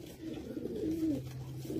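A prized Teddy flying pigeon coos up close, one soft, low, rolling call swelling and fading against quiet surroundings, with no voices.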